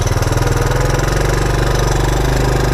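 1984 Honda ATC 200ES three-wheeler engine idling loud and close with a fast, even chugging pulse; the machine will not throttle up from idle and runs with the choke still on.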